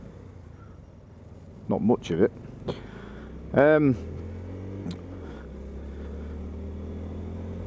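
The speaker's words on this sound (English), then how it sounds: "You might be able to hear a bit of the engine noise." A Honda Grom motorcycle idling at traffic lights, a low, steady, faint engine hum running throughout beneath brief spoken words from the rider.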